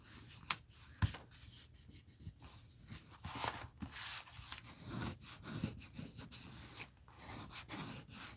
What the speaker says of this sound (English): I'm just going to burnish this down with my finger.